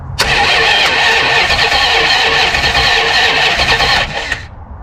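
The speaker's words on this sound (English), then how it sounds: "I'm gonna touch these two together and our starter should spin over" Starter motor on a 1974 Plymouth parts car that sat for twenty years, spinning over steadily for about four seconds, loud and close, with a continuous whirring drone that stops abruptly at the end.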